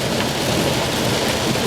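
A summer thunderstorm pours down, heavy rain making a dense, even hiss with a low rumbling undertone, loud and unbroken throughout.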